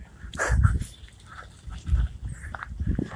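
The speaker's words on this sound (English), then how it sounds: "Oh, look at the dogs. Little boxers, those things are so hyper." Hyper boxer dogs outdoors, bursts of snorting, panting and scuffling noise with footsteps, rising and falling in three close, fairly loud bouts.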